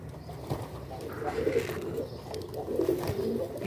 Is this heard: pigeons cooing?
yes